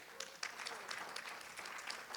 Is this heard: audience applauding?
yes